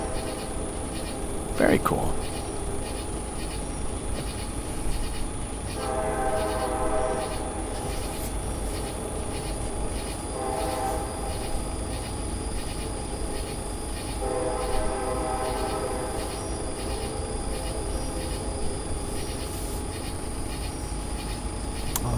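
A train horn sounds in several drawn-out, echoing blasts, with steady rumbling rail noise and faint insect chirping underneath.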